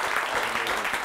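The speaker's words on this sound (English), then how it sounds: "Let's have another round of applause for you" A short burst of audience applause for a Japanese blade-sharpening presenter at a Hand-Eye Supply Curiosity Club talk, many hands clapping in an even, close wash that stays steady for about a second.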